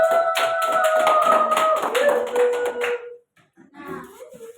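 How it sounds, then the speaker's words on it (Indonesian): Classroom pupils clap for group number 2 in a lesson on matter and its changes, a dense burst of handclaps for about three seconds with voices calling out over it, then a pause and some scattered talk. "Tepuk tangan untuk nomor 2"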